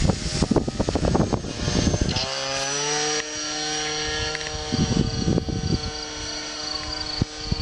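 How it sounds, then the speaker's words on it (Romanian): Small propeller airplane droning steadily overhead with a sustained, fairly loud engine tone, preceded by brief rustling and handling noise. "Eu am filmat avionașul."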